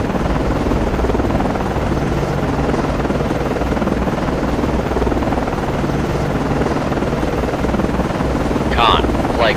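A helicopter launches from a DDG-79 destroyer in the naval game Cold Waters, its rotor a loud, steady, dense roar throughout, with a brief voice near the end.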